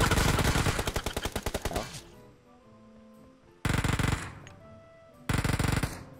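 Automatic gunfire in a PUBG-style battle royale game: a long loud rapid burst, a quieter gap with faint background, then two shorter fierce bursts close up.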